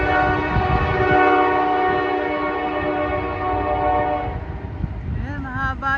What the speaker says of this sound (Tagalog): Ayan, mahaba yung train na to mga idol and sis.